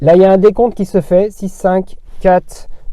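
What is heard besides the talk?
None of the usual background noises is heard.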